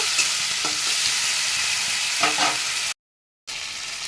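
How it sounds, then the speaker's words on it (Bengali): Ginger-garlic paste sautés in a pan, a steady close sizzle with a few stirring scrapes, then a brief cutoff into silence before the frying sound returns. "আদা আর রসুন বাটা সামান্য একটা দিয়ে দিলাম, আদা রসুন বাটা। এটাকে একটু কষিয়ে নেব।"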